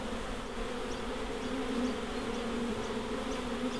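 A wild bee swarm clustered at a tree gives off a steady, dense buzzing hum that holds evenly throughout, close and continuous with no voices.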